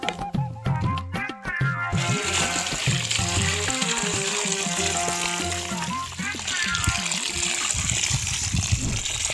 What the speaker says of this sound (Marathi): आता हे पाणी आपण याच्यात टाकून देणार आहोत